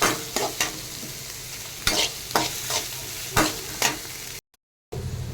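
Chopped onions sauté in a hot pan for masala idly, with a steady sizzle and several scraping stirs of a spoon, close and clear with no talk.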